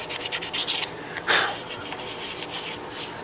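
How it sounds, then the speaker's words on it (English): A finger rubs down a sharp corner on a custom 12-string Rosa dreadnought guitar, producing close, dry scraping strokes in short bursts with brief pauses between them, and no talking. "now I'll take my finger and just knock the corner down"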